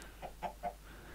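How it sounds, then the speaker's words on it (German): A chicken in the Minecraft video game clucking, three quick short clucks in a row, faint and alone. "Oh, hier ist ein Huhn drin."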